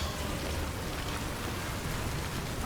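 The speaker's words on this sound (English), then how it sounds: "Oh, that's the rain." Constant downpour in the video game Death Stranding, a thick hissing wash of rain with a low rumble beneath, steady and unbroken with no talking.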